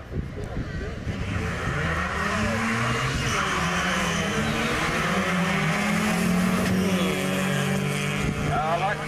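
Drag racing cars launch side by side at a beach drag strip in Bunbury, engines roaring loud and sustained, revs rising through the run, with an announcer's voice over the top.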